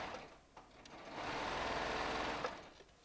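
A Baby Lock serger stitches jelly roll and charm square quilt fabric in a steady, fast whirring run of about two seconds, starting and stopping with short bursts at either end, close and alone.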